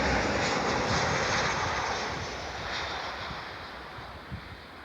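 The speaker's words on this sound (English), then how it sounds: "The plane is Boeing 737." A Norwegian Boeing 737 airliner arriving at Oulu airport gives a steady, broad jet roar that fades gradually, with some wind buffeting the microphone.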